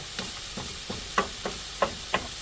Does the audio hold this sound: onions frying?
yes